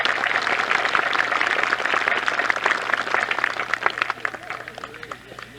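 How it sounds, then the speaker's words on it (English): Audience clapping at a 1984 bicentennial celebration in Adolphustown, a dense sustained round of applause that thins out toward the end, fairly loud in a hall-like space. "Would you like to give her a rousing round of applause?"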